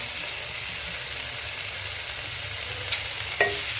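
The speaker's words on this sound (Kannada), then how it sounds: "ಮಿಕ್ಸ್ ಮಾಡ್ಕೊಳ್ಳೋಣ ಚೆನ್ನಾಗಿ" A spoon works through a ragi flour mixture with squeezed lemon juice in a steady, soft scraping stir, with two light clinks near the end and no talking.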